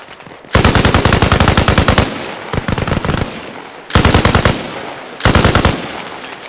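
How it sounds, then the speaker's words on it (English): In the video game Arma Reforger, a machine gun fires on a bunker in four loud, sustained automatic bursts, each a rapid, steady stream of close shots with brief pauses between. "Alright, they're firing the bunker."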